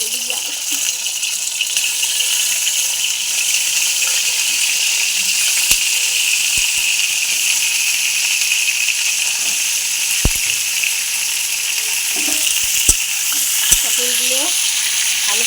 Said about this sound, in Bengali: পটলগুলো ভালো করে ভেজে নিচ্ছি।